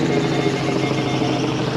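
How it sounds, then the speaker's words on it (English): A helicopter flies over a Laguna Beach shoreline, a continuous droning whir of rotor and engine held at a steady level throughout. "Helicopter flying over."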